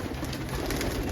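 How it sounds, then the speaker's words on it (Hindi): Pigeons coo in a loft, a soft low murmur that fills a brief moment close by. "भाई क्या शानदार कबूतर है।"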